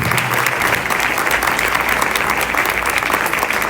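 Warm, sustained applause from an audience at a French event on women, creation and production, dense steady clapping filling the whole stretch without pause.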